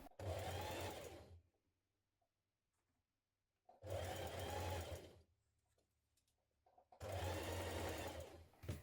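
A sewing machine zigzag-stitches a 2.5 centimetre T-shirt hem in three loud, steady bursts of whirring, each lasting a second or more, separated by short quiet pauses.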